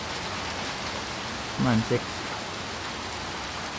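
Rain falls in the video game Little Nightmares 2 as a steady, even hiss throughout, with a brief moment of speech near the middle.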